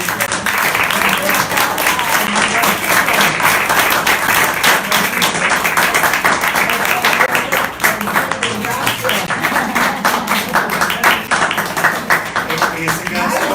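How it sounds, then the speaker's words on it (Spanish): An audience breaks into sustained applause, dense overlapping hand claps running steadily and loudly throughout, with faint crowd voices mixed in. "Un aplauso."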